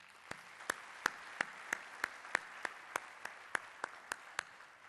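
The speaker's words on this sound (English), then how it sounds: "we have to applaud them separately" Clapping rings out at a conference closing session as speakers are thanked. Distinct, sharp claps repeat in a steady, even rhythm about three times per second, sounding sparse and slightly distant over a soft background.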